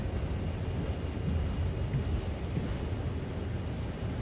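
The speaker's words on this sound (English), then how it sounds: "Love the rain sound effects though." Steady rain in the Train Sim World game, heard from the engineer's seat of a CSX heavy haul locomotive, a constant dense hiss with low rumble, moderately loud and unbroken throughout.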